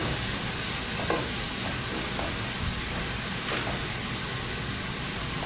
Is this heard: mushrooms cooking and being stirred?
yes